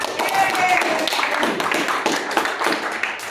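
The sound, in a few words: clapping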